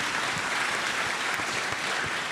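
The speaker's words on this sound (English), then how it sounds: "clap for Maxi" An audience at a summit claps for a young man named Maxi, a steady, dense wash of applause from many hands that holds at even loudness with no voices over it.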